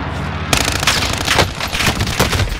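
Loud, rapid automatic gunfire from a gun in the Call of Duty Warzone video game, a dense continuous burst of close shots that begins abruptly and keeps going to the end.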